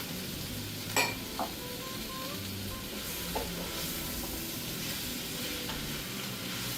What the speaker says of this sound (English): Okay, now we're gonna add the bok choy